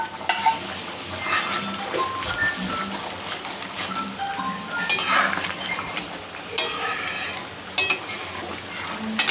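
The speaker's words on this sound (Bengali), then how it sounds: "এখন ফোড়নটা দিয়ে দিচ্ছি মাংসে।" Hot spice tempering with dried red chillies is poured into simmering mutton curry, producing a bright crackling sizzle mixed with clattering pot and utensil knocks and stirring scrapes, with a few sharp bursts.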